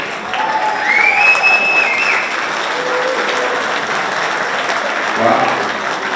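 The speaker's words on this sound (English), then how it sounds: "It's going to be an easy crowd here applauding already." An audience at a Greater Niagara Sports Hall of Fame induction dinner applauds warmly, a dense, steady clapping that fills the room and carries on without a break, with a voice briefly heard amid it.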